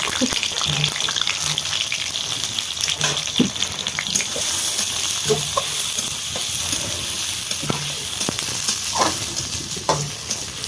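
Raw onions frying in hot mustard oil in a village kitchen, a steady bright sizzle with occasional stirring clinks and scrapes throughout, loud and close.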